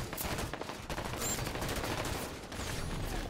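Gunfire in the video game Halo 5: Guardians, rapid bursts of shots under a dense, steady game soundscape, moderately loud with no talk.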